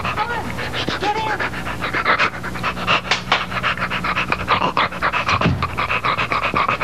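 A dog pants steadily in rapid, breathy rhythm, close and fairly loud throughout, with a brief whimper, while voices talk over it.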